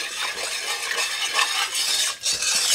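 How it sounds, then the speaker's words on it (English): Steady whisking of gravy in a pot, a continuous brisk scraping swish that runs without pause, close and fairly loud, with no talking. "So the first thing we'll do is whisk"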